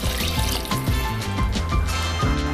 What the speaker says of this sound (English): Pour the broth in.